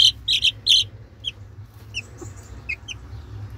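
Backyard chickens, including a young black-mottled Pekin bantam cockerel, give several short, sharp clucks and chirps close by, with quieter calls trailing off over a low background rumble.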